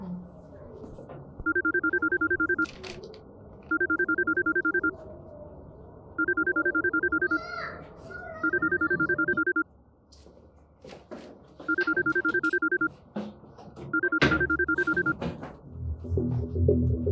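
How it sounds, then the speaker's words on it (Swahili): A phone ringtone plays in repeated electronic bursts, about six rings with short gaps, fairly loud, with quiet voices and background noise between and under the rings. "shika simu, brada yako anapiga"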